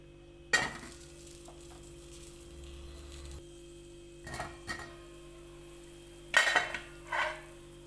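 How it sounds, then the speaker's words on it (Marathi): Masala with onion and garlic bubbling in a pot for pithla, a quiet low simmer punctuated by a few sharp clinks and scrapes of a spoon against the pot, with no talking. "मस्तपैकी उकळी फुटली आणि इथला मसाला पण सगळा शिजत आलाय"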